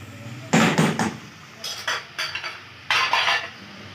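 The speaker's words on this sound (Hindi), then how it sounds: "बस इसको मिक्स करके अब हम दम पे रखते हैं।" A potato and moringa curry being mixed in a metal cooking pot, with a spoon clattering and scraping against the pot in three short bursts separated by quieter pauses.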